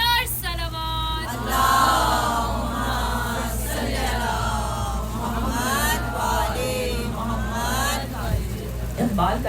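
A crowd at a Muharram majlis gathering chants slogans and salawat in unison, with loud, layered voices rising in several waves over a steady low background hum.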